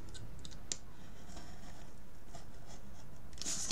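A craft knife cuts paper for a pop-up card, quiet scratchy scoring strokes with a few small clicks, close and faint.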